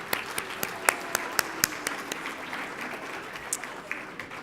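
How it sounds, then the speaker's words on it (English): Audience applause at an evening awards ceremony for teachers, a busy wash of clapping with several loud, sharp individual claps close by punctuating the first half before the sound gradually thins out. "Let's show them another round of applause."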